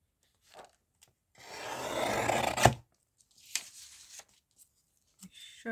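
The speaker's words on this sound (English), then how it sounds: "So I'm going to trim down this edge" A blade trims the edge of a paper junk journal page in one rasping, scraping pass about a second long, followed by quieter scattered rustles and taps of paper.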